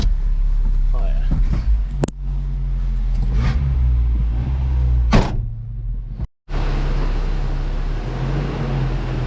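A warmed-up truck engine runs with a steady low rumble close by, broken by a few knocks and clunks and one brief drop before the idle resumes.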